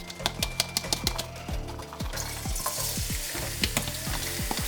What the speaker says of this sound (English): Now we can add the garlic right now.